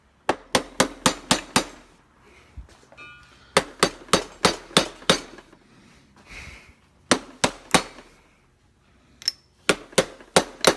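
Repeated hammer taps seating the cap back onto a KYB shock from a 2001 Kawasaki KX 250 motocross suspension, sharp close metallic strikes in quick bursts of five or six with pauses between.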